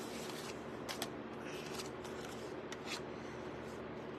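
Scissors fussy cutting a stamped pear out of a paper scrap, a few faint crisp snips spaced irregularly over a quiet room.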